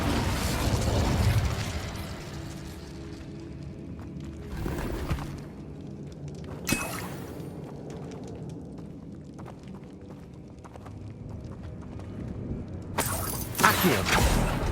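Incendio fire spells cast in Hogwarts Legacy burst out as several sharp whooshing pops over a steady rumbling game backdrop, with one flare near the middle and a louder pair near the end, and no voices.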